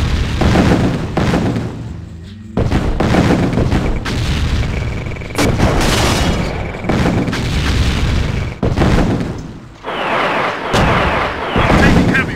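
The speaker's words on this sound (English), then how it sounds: "I'm taking heavy fire." Heavy gunfire and artillery in the 1999 PC game Command & Conquer Tiberian Sun, a loud barrage of repeated booming blasts and rattling shots in quick bursts with brief gaps, filling the whole stretch.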